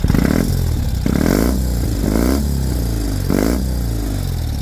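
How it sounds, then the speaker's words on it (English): A 2020 Ural Gear Up Sahara motorcycle exhaust gives four short, light revs, each one rising briefly and dropping back to a burbling idle in between. "I'd like you to hear that exhaust with some light revs"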